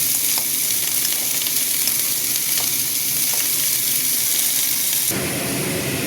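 Ground coriander and cumin masala sizzles and fries in a hot pan while being stirred, a loud, steady crackling hiss with faint scraping taps, the texture shifting slightly near the end.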